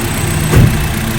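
A Honda car engine idles steadily with a brief low thump partway through; no one speaks.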